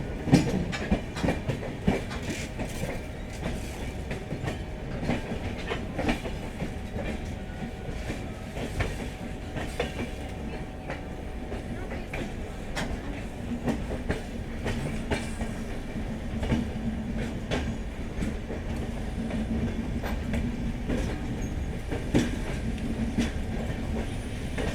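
The 12857 Tamralipta Express runs on rails from Howrah toward Digha, heard from inside with steady wheel clatter and a low rolling rumble throughout, moderately quiet and continuous.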